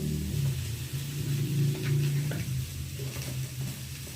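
Potatoes sautéing with spices in a pan, a soft continuous sizzle with scraping stir strokes and a low background hum, close and steady with no talk.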